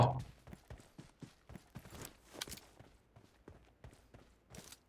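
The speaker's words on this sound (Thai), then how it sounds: "เสียงเท้ามาอีกแล้ว ข้างหลัง" Quick run of footsteps in PUBG Mobile, coming from behind the player: a steady train of short, fairly crisp steps across the whole stretch, moderately loud, with no talk over them.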